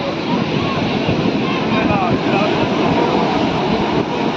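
Sea waves at Digha beach, a loud, continuous rushing surf roar blended with wind buffeting the microphone, with voices faintly under it.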